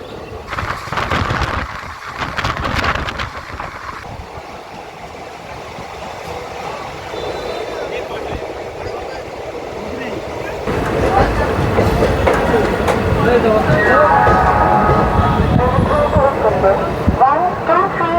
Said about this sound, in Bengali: ট্রেনটা এখনই ছেড়ে দেবে।